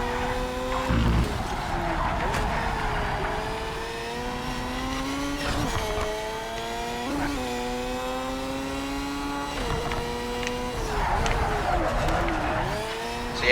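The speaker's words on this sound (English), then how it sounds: "we can really get this car to kind of drift out there, use a little bit of handbrake" Race car engine in an F1 video game at high speed, sustained revving harmonics rising and falling through gear shifts and a handbrake drift, with brief tire squeal, loud and continuous throughout.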